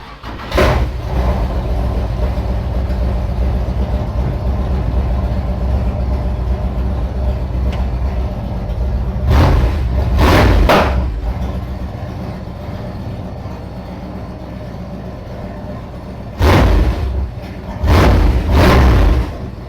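A truck engine idles steadily after its valve springs were replaced, a continuous low rumble with several louder revs or bursts standing out partway through and near the end; no talking.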